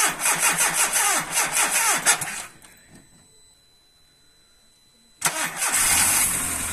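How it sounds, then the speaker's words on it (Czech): Volkswagen Golf IV 1.4 petrol engine started from a power bank with a dead battery: loud cranking and running at first, a quiet pause, then the engine catches again and holds a steady, close idle. "Už jednou jsem se takhle nastartoval, takže teď to zkusíme, když je baterka úplně mrtvá."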